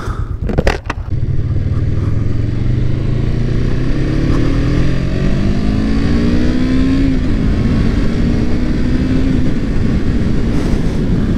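A motorcycle on a test ride rumbles loudly and close, the engine climbing steadily in pitch as it accelerates through a gear, then settling, with a few brief knocks at the start.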